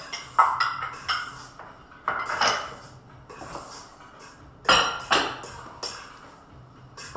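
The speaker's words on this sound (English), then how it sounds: "Cocoa powder and baking powder. Just giving it a little stir." A spoon knocks and scrapes against a bowl while stirring cocoa powder and baking powder, giving several sharp clinks in irregular bursts, close and fairly loud.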